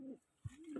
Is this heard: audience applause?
no